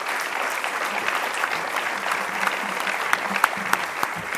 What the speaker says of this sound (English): So if you could all put your hands together for the faculty staff.